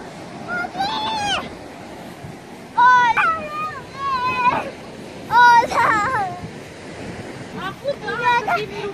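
Sea waves wash onto a cold beach, a continuous rushing surf with gusts of wind buffeting the microphone, while children's voices chatter and call out in short bursts over the water.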